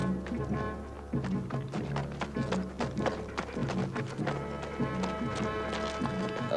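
Horses' hooves clip-clopping in a rapid, uneven rhythm on hard ground in an adventure film set in Kurdistan, with sharp thunks close by and faint background sound.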